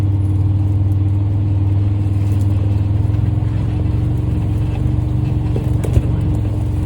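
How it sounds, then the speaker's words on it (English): An off-road vehicle in four-wheel drive crawls along a boggy woodland trail, its engine a loud, steady low rumble close by, with a faint knock or thump near the end. "I'll just go ahead and put it in four-wheel drive."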